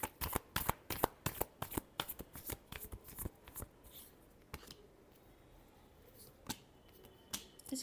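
Tarot cards being shuffled by hand, a rapid run of crisp riffling snaps and flutters that thins into a few scattered taps, close and fairly quiet with no talking.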